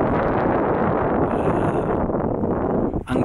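Steady, loud wind roars and buffets against a microphone outdoors beside a camper van, a dense continuous rush with a brief dip near the end.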